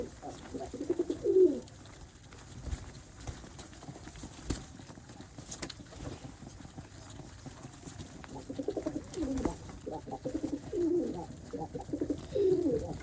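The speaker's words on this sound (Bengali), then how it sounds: "আমার এই গিরিবাজ কবুতরটা অনেক ডাকাডাকি করে" A Giribaz pigeon coos in short, throaty bursts, once early and again in a cluster toward the end, with quiet background shuffling between calls.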